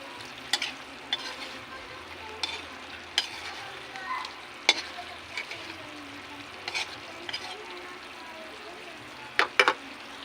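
Pork adobo with oyster sauce is stirred in a pan over a steady low sizzle, with a spatula scraping and knocking against the metal now and then, close and mid-loud, no voices.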